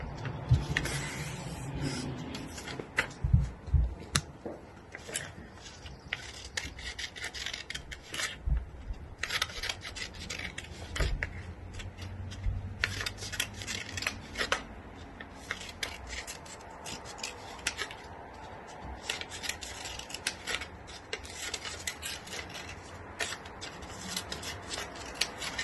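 Scissors snipping and rasping through paper, close up, in irregular bursts of cutting with brief pauses, no talking.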